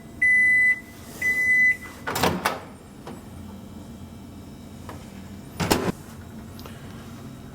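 A microwave oven being set on high heat to cook cream of rice: two loud beeps from the keypad, then the door shutting with a thump and the oven starting to hum steadily, with another clunk later on.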